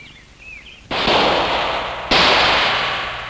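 Two loud rifle shots ring out on a wildlife college shooting range in 1963, each a sharp close crack followed by a long rolling echo, spaced about a second apart after a quiet lead-in.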